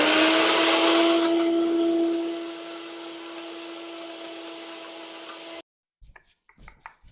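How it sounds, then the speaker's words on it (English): A small electric blender whirs loudly while pulverizing six cookies for a cookies-and-cream cake, a steady high motor whine that eases somewhat as it runs, then cuts off, followed by a few faint clatters. "I'm just using this little blender thingy that I've got."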